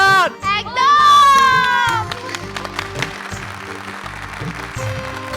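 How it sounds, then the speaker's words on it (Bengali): A wedding audience cheers and shouts for a bride and groom, a loud burst of excited voices that gives way to a rough wash of clapping and crowd noise. "সেই রিতম আর দেবযানীর জন্য একটা জোরে হাততালি হয়ে যাক"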